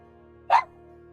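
A small Chinese crested dog gives a single short, sharp bark, fairly close, standing out briefly over a steady low background hum.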